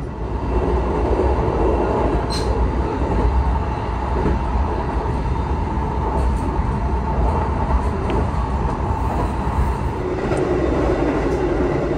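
A steady, loud rumble of the Purwojaya passenger train moving along rails in Java, Indonesia, with continuous rolling noise and faint metallic clicks, heard from inside.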